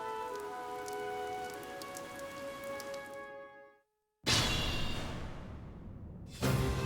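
Steady rain in Fire Emblem: Three Houses, a dense hiss of drops on surfaces with faint musical tones over it, cutting to near silence, then returning as heavier, louder rainfall before another abrupt cut.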